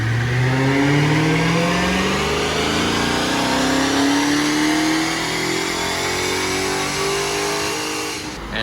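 A 2020 Dodge Charger Hellcat Widebody, in all-wheel drive mode, makes a dyno pull on a Mustang dyno, its engine revving loudly and climbing steadily in pitch as it accelerates, sustained and close throughout.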